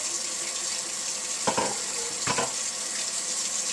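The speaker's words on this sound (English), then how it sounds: "I also rinse them off first because, you know, they've been sitting in that package for a while" Tap water runs steadily over corned beef being rinsed in a kitchen sink, a constant hiss with two brief splashy bursts from the meat in the stream; no one talks.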